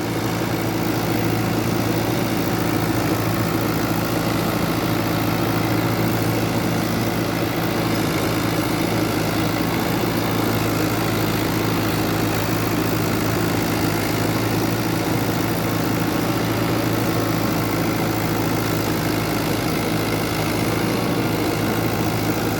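A New Holland Fiat 640 tractor of 75 hp drives a 54-blade rotavator in a wet harvested paddy field, its diesel engine droning in an unbroken, loud, low throb.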